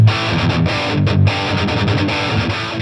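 Heavily distorted electric guitar played through the onboard effects of a Line 6 Catalyst CX amp, a dense, saturated riff with chugging low notes and brief gaps, loud and steady with no voices.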